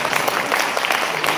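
Audience at a numerology seminar in Bahrain clapping steadily, a dense continuous patter of many hands throughout, fairly loud with faint crowd murmur.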